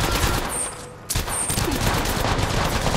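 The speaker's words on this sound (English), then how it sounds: "Shooting!" Rapid automatic gunfire in the battle royale game Apex Legends, dense bursts of shots with a short gap in the middle, loud and close, no talk over it.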